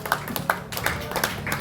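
A small group claps at a music show, scattered claps coming in loose, uneven bursts, fairly close and modest in volume.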